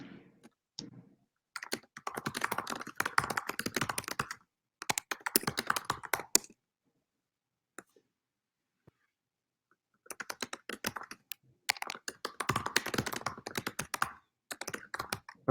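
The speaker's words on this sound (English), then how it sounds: "I can see someone typing as well." Fingers type on a computer keyboard in bursts of rapid clicking keystrokes, several seconds each, separated by pauses of silence; close and moderately loud with no talking.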